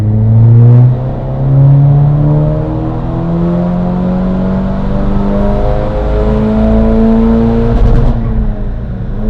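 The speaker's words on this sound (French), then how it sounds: "1500 tours à fond, rapport engagé. On va tirer jusqu'au rupteur et après arrive au rupteur." A Volkswagen Polo 6R WRC engine, stage 3 tune, pulls hard on a dyno at full throttle, its droning pitch climbing steadily over several seconds to bounce against the rev limiter, loud and close.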